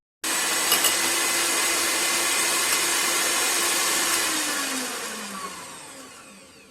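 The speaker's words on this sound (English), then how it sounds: "Now we are going to whisk this and bring it to soft peaks" Electric whisk whipping cream for a sugar-free mango cheesecake, a steady loud motor whir running without pause and gently dropping in pitch toward the end.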